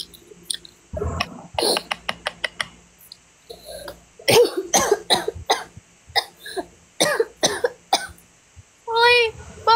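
A person coughs in a series of sharp, repeated bursts and throat clears, some in quick clusters, with voices talking between them during a live stream.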